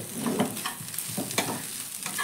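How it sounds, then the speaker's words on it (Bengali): Potato being stirred in a hot pan with turmeric and chili powder, a soft scraping and sizzling close by, with irregular stirring strokes over a steady low fry for a couple of seconds. "ভালো করে মিশিয়ে নেব হলুদ আর লঙ্কাটাকে আলুর সঙ্গে"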